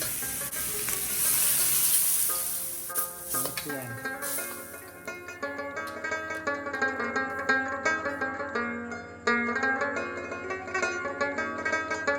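Water added to a hot pan of chicken for chicken karahi gives a loud hiss of sizzling that fades after a few seconds into quieter bubbling and cooking, with scattered clinks.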